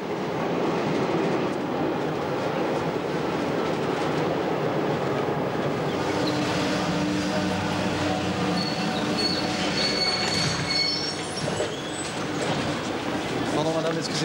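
A Paris metro train in 1982 runs with a loud rolling rumble and clatter, then its wheels squeal in high sustained screeches as it brakes or curves, with voices mixed in.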